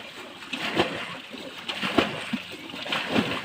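Fish released into water in a village pond, giving repeated splashes and sloshes of varying strength, close by, with some background noise.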